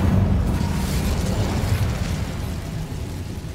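A fire spell going off in the Hogwarts Legacy video game, a loud sustained roaring burst with a heavy low rumble that holds for several seconds and fades slightly toward the end.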